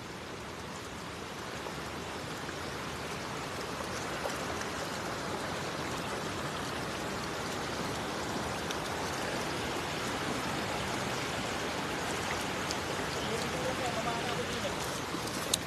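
Light drizzle falling outdoors on a rainy afternoon, a steady soft broadband hiss of fine rain throughout, with a voice talking over it.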